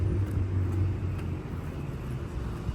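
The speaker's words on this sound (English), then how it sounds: "It's a car." A car passes at a distance as a low, steady rumble of road noise, fairly quiet, fading slightly over a few seconds, near running outdoor HVAC units.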